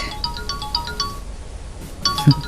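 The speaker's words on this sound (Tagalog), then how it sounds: "Mauawag gayam iti cellphone ko." A mobile phone ringtone sounds in an Ilocano comedy drama: a repeating melodic pattern of bright electronic tones plays fairly loudly, pauses briefly, then starts again over a faint background hiss.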